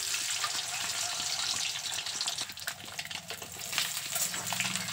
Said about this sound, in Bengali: তেলটা গরম করে নিয়ে এক এক করে ডিমগুলো দিয়ে ভেজে নেব